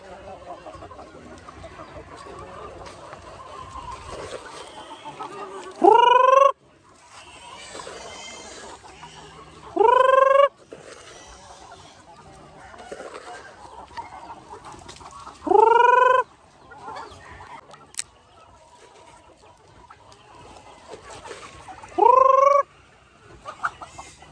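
Old White Leghorn–Barred Rock cross hens cluck softly throughout, broken by four loud, rising squawks spaced several seconds apart.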